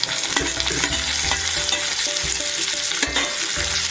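Onion and tomato sizzle in a pan for a Malvani-style pavta batata bhaji, a steady close frying hiss broken by repeated scraping stirs, with no talking.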